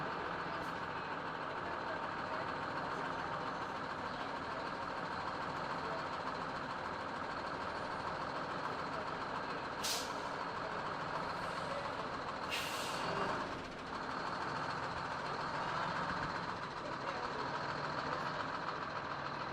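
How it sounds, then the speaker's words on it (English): A modern articulated bus with an accordion joint rolls past in a Veterans Day parade in San Jose. Steady engine and road rumble fills the scene, with a few short hissing bursts, likely from air brakes. "Here's one of the more modern buses with the accordion in the middle."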